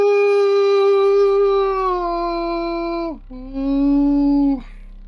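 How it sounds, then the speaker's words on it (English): A low, mournful howl, long and drawn out, that sinks in pitch, breaks off briefly, then returns as a shorter, lower howl before ending. It sounds close and clear, with no other sounds around it. "low, frustrated, but mournful howl at losing the quarry."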